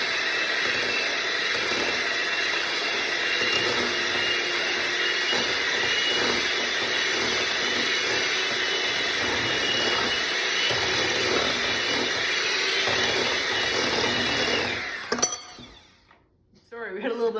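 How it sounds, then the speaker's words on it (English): An electric hand mixer whirs steadily at close range as it beats eggs for a sponge cake, a continuous high buzz that cuts out abruptly near the end, with a voice talking over it. "we're going to get our mixer and we're going to mix it around"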